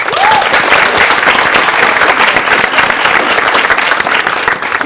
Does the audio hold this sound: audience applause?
yes